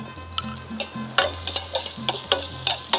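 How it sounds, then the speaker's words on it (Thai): Chopped garlic sizzles and crackles in a hot pan with light scraping of a utensil, close up and steady, with a low hum underneath. "กระทะร้อนแล้วเราใส่กระเทียมสับเลยครับ"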